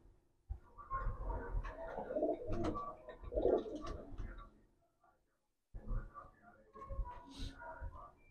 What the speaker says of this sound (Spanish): Aquí hay pichones y hay palomas adultas y yo no las tengo por jaula.